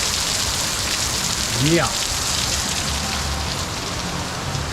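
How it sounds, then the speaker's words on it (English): Heavy Florida rain pours steadily with a dense, hissing roar, and a voice briefly speaks over it. "And it's pouring down raining."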